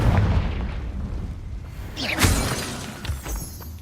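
A Confringo blasting spell in a wizarding game goes off with a sharp shattering burst and a booming blast near the middle, over a low rumbling bed of noise, with no talking.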